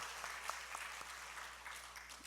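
A church congregation at a Korean evening worship service applauds together, a soft, fairly distant patter of many hands clapping for a couple of seconds with no voices over it.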